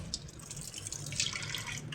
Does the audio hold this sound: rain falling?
no